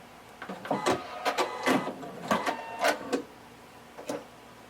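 A sewing machine backstitches a 5/8-inch seam on a tank top dress in short bursts, with several quick, close forward-and-back runs separated by brief pauses.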